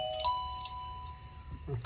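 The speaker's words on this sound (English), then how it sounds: "we're gonna go ahead and ring the bell" A wireless video doorbell chime rings indoors, sounding a clear electronic ding-dong tone that lingers faintly under quiet room noise.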